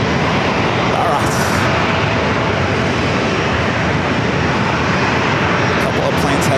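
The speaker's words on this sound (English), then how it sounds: "We got that Airbus A220. We're flying over our head." An Airbus A220 airliner roars low overhead near San Diego airport. Its dense, loud jet noise stays steady the whole time.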